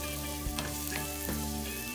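Onion and garlic sauté in a hot pan, softening until translucent, with a steady close sizzle and a few light stirring knocks.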